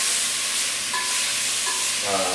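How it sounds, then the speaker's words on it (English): Cubed sirloin beef browning in a hot pan, a steady close sizzle with soft scraping as the pieces are stirred, continuous throughout. "I am sauteing them to make them brown on all sides as well"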